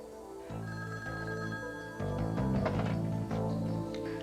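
A telephone rings indoors in repeated electronic trills, the bursts starting and stopping in a steady pattern, fairly loud and clear over a quiet room with no one talking.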